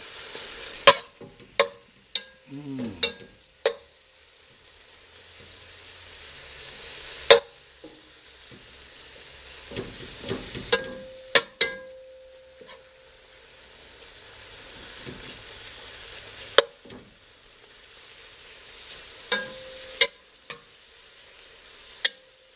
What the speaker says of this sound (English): after we render the bacon down, we'll brown the beef. Ah, I like that sound